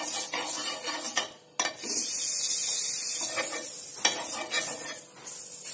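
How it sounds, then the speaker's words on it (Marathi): Butter sizzles loudly and continuously in a hot nonstick pan for an egg omelette, a bright crackling hiss with a few brief stirring scrapes and pauses. "इथे मी नॉनस्टिक पॅन गरम करायला ठेवला आहे. यात थोडंसं बटर वापरते."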